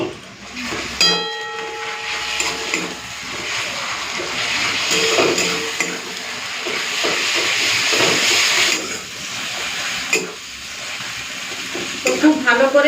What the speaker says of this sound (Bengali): তো খুব ভালো করে ভেজে নিয়েছি আদা রসুনটাকে